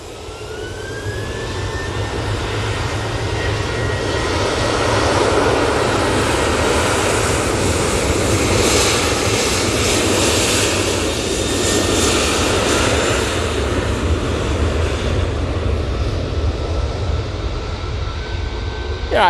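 A TUI jet airliner at Manchester Airport starts its engines and spools them up, a rising whine followed by a sustained, loud jet roar with rumbling low end; a faint voice speaks briefly in the background.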